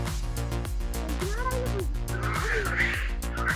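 A cat meows a couple of times, with rising and falling wavering cries over a loud, steady droning hum.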